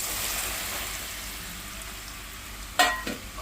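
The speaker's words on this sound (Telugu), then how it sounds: "వేసి మంచిగా ఫ్రై చేసుకోవాలి." Ground coconut fries in a pan with turmeric, giving a soft, steady sizzle, then a couple of sharp scrapes or clinks from stirring near the end.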